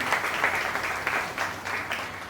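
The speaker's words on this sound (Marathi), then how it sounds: "मी किरण नागतींसाठी एक वार जोरदार टाळ्यांचा गजर करण्याची आपल्या सर्वांना विनंती करेन." An audience applauding at a poetry recitation event, a dense steady patter of many hands clapping together, moderately loud and sustained for a couple of seconds without voices.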